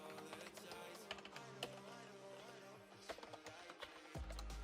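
Quiet, rapid typing on a HyperX Alloy Core RGB mecha-membrane keyboard, a dense run of soft clicks and taps with a few louder key strikes and a thump near the end.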